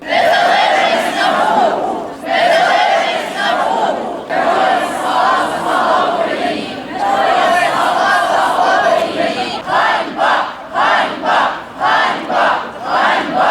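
A crowd at an evening street protest in Uzhhorod, Ukraine, shouts slogans in loud unison bursts, ending in a rapid rhythmic series of short chanted calls.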